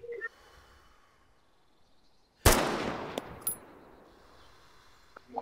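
A single sharp, loud gunshot cracks out in Arma 3, trailed by a rumbling echo and a couple of fainter follow-up pops, against a quiet outdoor background.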